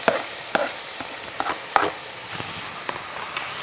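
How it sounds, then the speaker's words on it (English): Tomatoes, Scotch bonnet pepper and herbs cooking down in a pan, a continuous sizzle broken by a rhythmic series of stirring scrapes and taps. "I'm going to add my tomatoes now and my Scotch bonnet and my herbs. I'm going to add that all. Let all the herbs cook down together"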